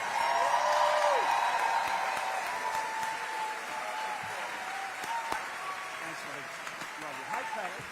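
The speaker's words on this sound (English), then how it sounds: "Let's give the governor another big round of applause, folks." A crowd at a teachers' convention applauds a governor continuously, the clapping loudest at the start and gradually thinning while a cheering roar persists.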